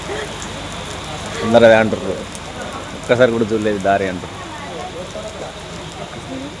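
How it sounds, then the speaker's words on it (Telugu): Heavy rain pours steadily near the Kukke Subrahmanya Swamy temple, a dense constant hiss throughout, while people talk over it. "ఫుల్ వర్షం పడుతుంది,"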